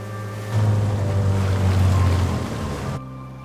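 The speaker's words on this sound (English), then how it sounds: "We take a little boat to the beach," A small motorboat engine drones steadily over water with wash and wind noise, cutting off abruptly near the end.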